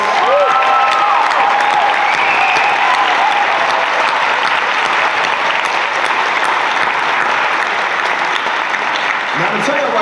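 An audience at an MLK Day celebration gives a long, loud round of applause for the singer, with steady, dense clapping throughout and a few voices and cheers rising above it.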